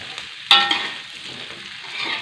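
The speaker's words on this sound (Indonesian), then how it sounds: "Nunggu cilinya ini layu sahabatku, baru masukkan daun bawang." Chili and spring onion stir-fry in a pan, a steady loud sizzle with a sharp scrape of the utensil near the start and continued hissing throughout.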